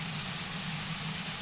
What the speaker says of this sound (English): There's engine number 1 coming on, our left engine